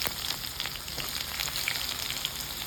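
Chopped onions fry in a hot pan with curry leaves, a steady close sizzle with small crackling pops throughout, no voices over it.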